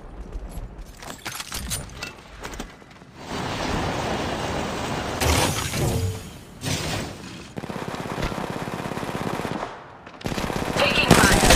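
Bursts of rapid automatic machine gun fire from the Apex Legends Mobile battle royale game come in several long, loud volleys separated by brief pauses, with other game sounds between them.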